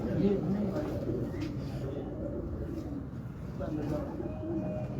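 Teddy pigeons coo softly in low, repeated throaty calls against a steady background hum, with a few faint chirps.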